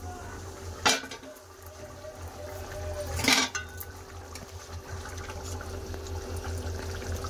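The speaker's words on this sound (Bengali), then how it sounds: "চাপা দিয়ে আলু কুমড়ো ভালো করে সিদ্ধ করে নেবো" Potatoes and pumpkin simmer in a covered pot, giving a soft, steady bubbling hum broken by two sharp metallic clanks of the lid or utensils, close by with no talking.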